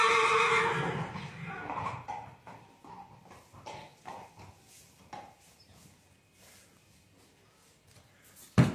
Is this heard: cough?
no